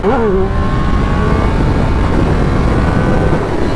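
A Triumph Speed Triple RS 1200 motorcycle engine runs loud and steady on a European race circuit, with a brief rising rev at the start before holding a sustained high drone throughout.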